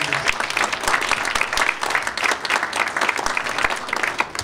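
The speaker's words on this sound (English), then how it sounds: "Can we give a round of applause for him?" Sustained applause from an audience at a hall of fame ceremony, dense steady clapping filling the room, fairly close and loud, with no talking over it.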